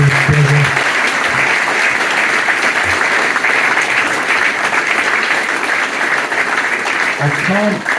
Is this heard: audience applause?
yes